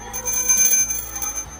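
A small bell brought for Ganpati worship rings close and clear, a bright sustained metallic tone with a couple of quick strikes over under two seconds.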